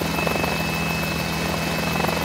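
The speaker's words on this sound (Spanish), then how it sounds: "Bueno, probamos ya a bordo de la cabina del helicóptero." Inside the cockpit of a Mini 500 helicopter in a flight simulator, the engine and rotor keep up a steady, loud, dense drone with a fine rhythmic chop, unbroken for the whole moment.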